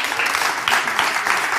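A studio audience on a Portuguese television talk show breaks into applause, a dense, loud wash of many hands clapping at once that swells slightly midway and continues evenly.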